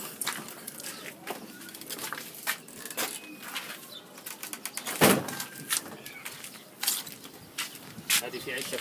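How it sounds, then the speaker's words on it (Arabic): Pigeons kept in a rooftop loft of Australian pigeons, heard as a busy run of wing flaps, scuffles and sharp knocks with faint cooing throughout, close by and irregular. "انا اوري لكم الحمام اللي موجود هنا"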